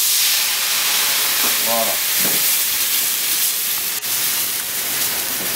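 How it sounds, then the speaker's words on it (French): Dry white wine hitting a hot, smoky pan of kidneys to deglaze it, a loud, steady broadband sizzle and hiss filling the whole moment, with a brief spoken word near the middle. "on va déglacer avec un peu de vin blanc sec"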